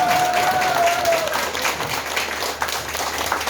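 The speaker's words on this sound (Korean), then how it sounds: "박수!" Audience applause at a Korean political rally for a presidential candidate, steady clapping throughout with a brief tonal whistle-like sound near the start.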